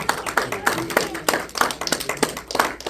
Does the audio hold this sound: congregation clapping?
yes